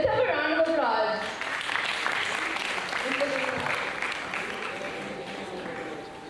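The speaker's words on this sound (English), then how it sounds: "Let's have a round of applause." Audience applause at an Archdiocese of Calcutta prize presentation, a crowd clapping steadily at moderate distance while a voice talks over the start, the clapping tapering slightly toward the end.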